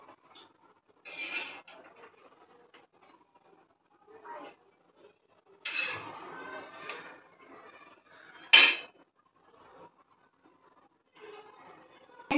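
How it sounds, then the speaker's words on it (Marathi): Stuffed bitter gourds are moved onto a plate, giving sparse, quiet clinks and scrapes of a utensil against dishware, with one sharper clatter midway. Light talk is scattered between the sounds. "इथे आता मी प्लेटमध्ये काढून घेते कारली"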